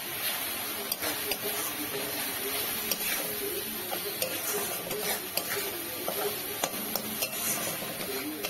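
Whole garam masala spices frying in a hot pan with salt and turmeric, a steady close sizzle and crackle with occasional clinks of a spoon stirring, while a person talks over it.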